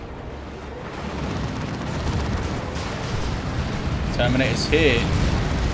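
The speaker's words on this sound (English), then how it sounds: "Throws down the orbital bombardment." Orbital bombardment explosions in the video game Dawn of War 2, a loud, continuous rumbling barrage that swells gradually, with brief voice lines from the game near the end.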